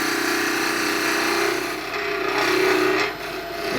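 A roughing gouge shearing a spinning wooden blank on a lathe gives a steady, close, raspy hiss with a low motor hum beneath, easing slightly in pitch and loudness as the cut changes, with no talk.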